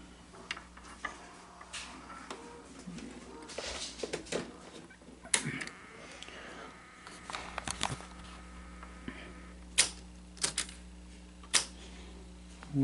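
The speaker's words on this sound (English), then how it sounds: "Let's just see if it'll accept the tape now." Sony SL-HF500 Betamax VCR under repair, its loading mechanism taking in a tape with soft whirs, clicks and a few sharp mechanical clunks, close and fairly quiet over a low steady hum.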